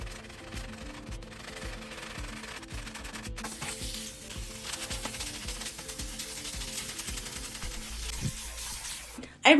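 A stone molcajete, a mortar and pestle, is scrubbed and rinsed with water, producing a continuous gritty rubbing and scraping at close range with a soft wet wash beneath it.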